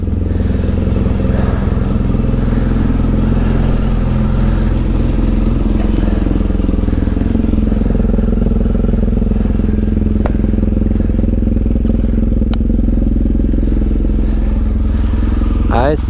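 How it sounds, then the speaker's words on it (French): Motorcycle engine running close by during a Balkans road trip near the Bicaz Canyon, a loud, steady low rumble throughout with slight shifts in pitch and occasional clatter. "Fais un petit tour de la moto comme d'habitude."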